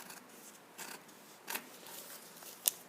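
Scissors snip through a paper dart template close up, making a few quiet, crisp cutting strokes spaced irregularly, with a sharp click near the end.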